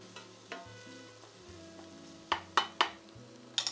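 Meatball sub ingredients sizzling in a hot pot, a steady frying hiss with a few sharp clanks of a utensil against the pot near the end, close and alone.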